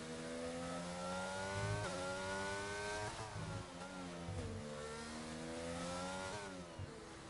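F1 car at full throttle with DRS open in the F1 22 racing game, Catalonia circuit: a loud, continuous high-pitched engine whine climbing through gear changes, close and steady with no talk.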